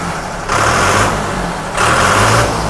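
A New Holland 3600 tractor engine runs loud and close, revved up twice into a harder roar that eases back between bursts, with no talk over it.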